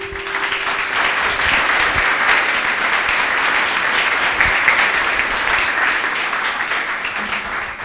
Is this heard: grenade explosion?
no